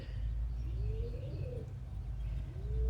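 White button quail chick gives faint, thin rising peeps, two calls spaced apart over a low steady background hum, with no talking.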